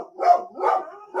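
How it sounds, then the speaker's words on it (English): A dog barks indoors in three loud, close, drawn-out barks at an even pace. "If you're picking up my dog's barking"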